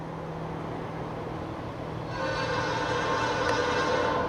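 A Norfolk Southern freight train led by an EMD SD70M-2 locomotive rumbles past the Yadkin Road crossing in Chesapeake, Virginia, as a steady, fairly close roar that grows louder midway and carries a faint tonal whine.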